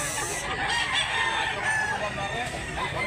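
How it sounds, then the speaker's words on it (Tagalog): Roosters at a gamefowl sale in Mantalungon, Barili, Cebu, crowing and clucking amid a busy outdoor crowd, with overlapping calls of varying distance and people talking in the background. "Gandang manok"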